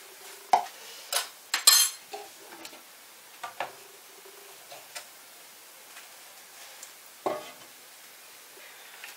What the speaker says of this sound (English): I'm going to mix up two colours in my pot